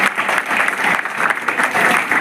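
Loud, steady applause from an audience at a community talent award ceremony as a class 9 student is honoured, a dense wash of clapping hands lasting throughout without a break.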